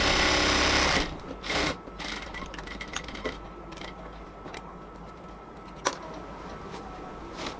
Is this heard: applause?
no